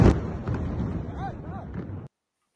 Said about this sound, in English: one of the explosions, missile strike.